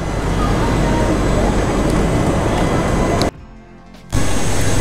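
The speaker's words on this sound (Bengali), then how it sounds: "ডানকুনি জংশন থেকে আমাদের ট্রেন ছেড়ে দিল" A passenger train pulls out of Dankuni Junction with a loud, steady rumble and broadband roar that cuts briefly to near quiet before surging back.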